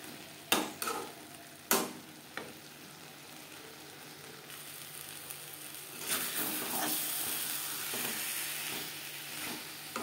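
Potatoes and spices sautéed in a pan over a medium flame for egg curry, opening with a few sharp spoon knocks against the pan, then a steady, rising sizzle with occasional stirring, no talk.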